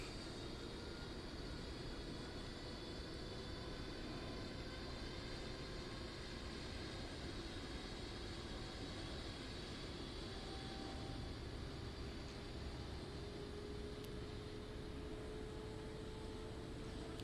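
A Rafale jet (FR3D mod) in the DCS flight simulator flying a strike mission, slowing with flaps half down; faint, steady engine roar with a thin whine gradually rising in pitch, no talk.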